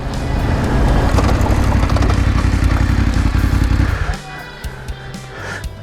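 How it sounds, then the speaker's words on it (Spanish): A BMW trail motorcycle engine roars loudly and close for about four seconds over dried mud ruts in Morocco, rumbling with rattling clatter, then drops away to quieter ambient noise. "Ahí la moto va de lujo."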